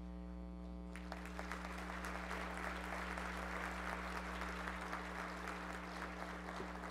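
Audience applause fills a large assembly hall at a national agricultural council general meeting, a steady wash of many hands clapping over a low electrical hum, sustained at moderate distance for the whole stretch.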